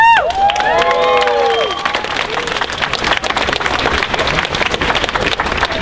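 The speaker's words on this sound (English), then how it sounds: "Please, please, just clap for yourself right now." A rally crowd in Hartford for Palestine claps and cheers, with whoops and shouts rising early over dense, sustained clapping that carries on loudly throughout.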